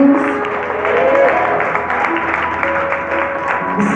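Congregation clapping in a church service, a steady dense wash of applause lasting throughout, fairly loud, with faint voices and a sustained musical tone underneath.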